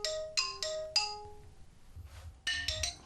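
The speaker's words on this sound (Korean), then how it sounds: "그날 밤 아빠에게 걸려온 전화 한 통" A phone rings with an incoming call at night, its bright chiming tones repeating in short bursts with brief gaps between them, loud and close.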